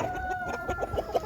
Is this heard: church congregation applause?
no